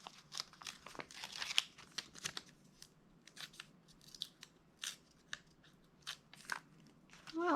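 A planner sticker is worked loose from its backing paper, a series of sharp crinkly papery crackles and snaps coming in irregular bursts, close by and alone.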